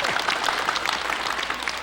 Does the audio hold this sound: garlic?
no